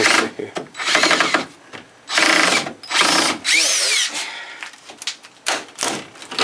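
A power drill drives a screw into wood in a series of short, loud whirring bursts separated by brief pauses, each run winding up and cutting off, close to the listener with no talk.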